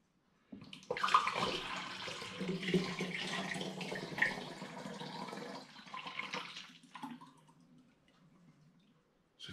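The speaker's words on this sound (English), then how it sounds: "Start to pour from the pan now." Homemade apple cider poured from a pan into a vessel, a close splashing, trickling stream that holds steady for several seconds, then thins to drips and fades to silence.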